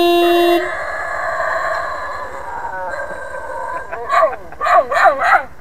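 A pet dog howls in rising, wavering bursts like it is singing along, starting faint after a sustained tone and swelling into several loud, close howls near the end.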